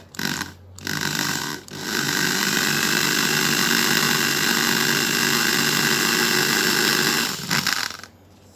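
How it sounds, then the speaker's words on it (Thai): A power drill bores into the steel base of a Hot Wheels die-cast car: two short bursts of motor whine, then one long, steady, close grinding run that cuts off near the end. "ก็เจาะเนาะ ก็เจาะลงไปนะครับ"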